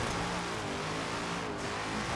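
A supercar in Forza Horizon 4, its engine blipping and revving under careful throttle control, a loud, steady, close engine drone that rises and falls in pitch throughout.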